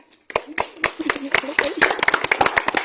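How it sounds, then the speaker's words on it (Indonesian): A classroom group claps in an uneven, scattered patter of distinct hand strikes, close and fairly loud, building from a few claps into a denser ragged burst, with voices talking over it. "Tepuk tangan"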